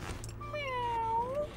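A cat meows once in a drawn-out, rising then falling call, close and clear, heard within a retro 1980s–90s BBC children's programme.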